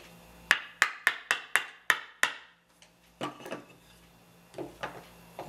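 A hammer taps on a board to adjust the fold of a robe: a quick run of about eight sharp, evenly spaced knocks, then a pause and a few softer, irregular taps close by.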